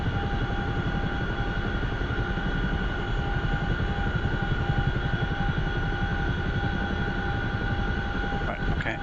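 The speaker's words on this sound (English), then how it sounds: "You have taxied and taken off in a CH-47 Fox." A CH-47F Chinook helicopter in a flight simulator game lifts off, its rotor and turbine drone steady and loud throughout, a dense continuous roar with a constant whine on top and no pauses.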